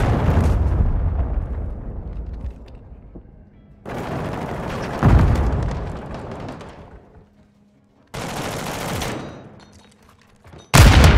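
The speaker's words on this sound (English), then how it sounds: "Hostile cruise missile incoming." A cruise missile strike in Call of Duty: Modern Warfare II lands as several loud, booming blasts, each a sharp broadband burst that rolls off into a long rumbling decay, with quieter gaps between the hits.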